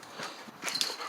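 A playful dog moves about nearby, making soft scuffling taps and faint whimpering sounds at low volume with no speech.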